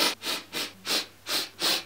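Five quick, sharp sniffs through the nose in a steady rhythm, close up and fairly quiet.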